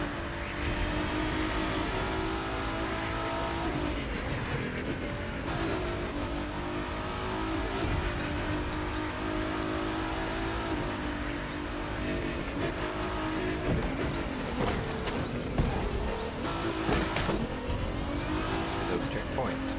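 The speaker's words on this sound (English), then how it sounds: "Those engines are gonna make for a loud wake-up call if anyone's sleeping in this resort area today." Race vehicle engines roar continuously in The Crew 2, a loud, dense wall of revving and acceleration with occasional tire squeal, while a commentator talks over it throughout.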